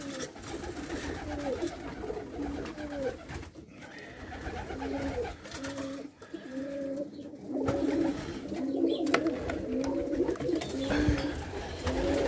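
Several pigeons coo repeatedly in soft, rhythmic bursts, close by in an enclosed loft, with faint rustling and shuffling between the calls.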